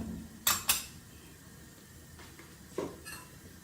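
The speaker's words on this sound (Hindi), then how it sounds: "अब मैं इसमें ये मूंग की दाल डाल दूँगी।" Moong dal tips into a pan for halwa with a couple of quick metallic clinks and a soft scrape, faint and close, in an otherwise quiet kitchen.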